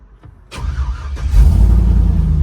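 A 1965 Ford F100 pickup with a swapped-in LS V8 on a Crown Vic frame cranks briefly, then fires and settles into a loud, steady low rumbling idle, close by.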